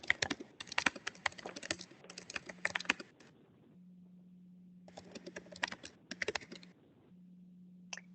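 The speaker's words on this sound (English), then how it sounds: "I'm sure you're typing as fast as you can." Bursts of rapid keyboard typing with short pauses in between. The clicks are close and crisp, with a low steady hum underneath.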